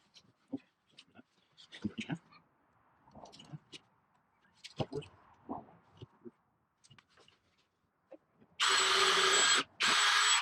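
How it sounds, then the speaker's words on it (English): After scattered clicks and handling noises, a power drill whirs loudly into wood blocks in two bursts near the end, briefly pausing between them. "we're going to go ahead and drill those in"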